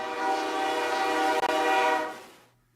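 A train horn sound effect played during a live sports stream blares as a loud, sustained multi-tone blast for about two seconds, then fades out quickly.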